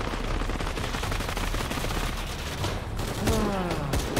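Shadow of the Tomb Raider game gunfire crackles in a dense, continuous rattle of rapid shots, loud and sustained, with a burst of sweeping tonal effects near the end.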